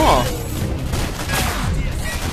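Rapid gunfire from a heat-shooting weapon in the video game Singularity: dense, continuous bursts of shots under someone talking.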